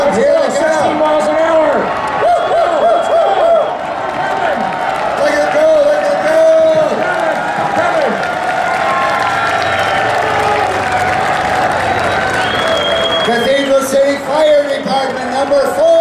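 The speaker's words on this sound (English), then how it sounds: "Get your cheers and applause ready." A large crowd at an LGBT Days bed race event cheers and claps loudly and steadily for the Cathedral City Fire Department team, with whoops rising above the roar throughout.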